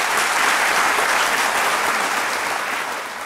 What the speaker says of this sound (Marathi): डेव्हिड धवनसाठी टाळ्या.